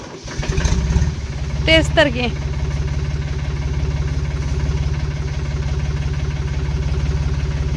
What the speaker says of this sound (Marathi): भागो रे ट्रॅक्टर आया